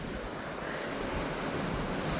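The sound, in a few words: blizzard wind roaring through buildings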